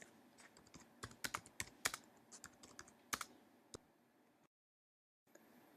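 Close, quiet clicking of computer keys in irregular bursts as text is typed, then a short silence and a faint return of sound.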